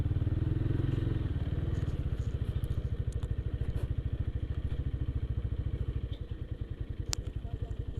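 A motorcycle engine idles close by in a parking area at a festival, thumping in a steady rapid beat. It carries on with faint background clatter and a brief sharp click.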